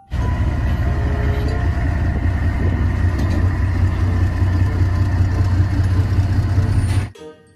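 Toy steel tank playing a continuous, loud idling engine drone with a low, even rumble that holds for about seven seconds before stopping sharply.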